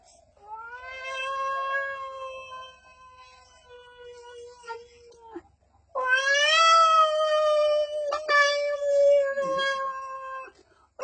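A stage performer imitates a cat with his voice, giving two long drawn-out meows that rise and fall in pitch. The second is louder and more insistent than the first. The calls are close and clear, with no other sounds.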